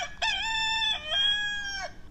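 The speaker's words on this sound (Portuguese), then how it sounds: "o galo cantou" A rooster crows loudly and nearby, one long cock-a-doodle-doo with clear rising and falling tones and no other sound around it.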